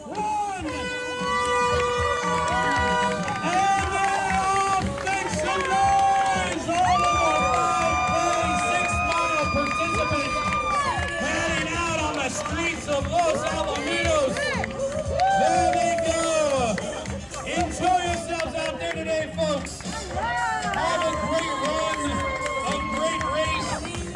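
A crowd cheering at a street race in Los Alamitos, loud and continuous, with air horns blaring, shouted voices and a busy wash of sound throughout.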